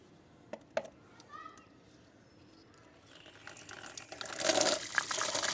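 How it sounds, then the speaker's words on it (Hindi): Water poured into a container meant for birds and animals, a soft splashing gush that swells louder near the end after a quieter stretch with faint voices and scattered knocks. "तो मैं सबसे पहले उसमें पानी डाल दूँ"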